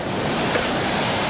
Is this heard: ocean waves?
yes